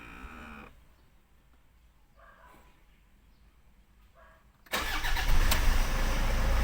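A Toyota 1KD diesel engine is cranked after the key is switched on: a quiet lull with a few faint clicks, then it fires and settles into a loud, steady diesel idle close by.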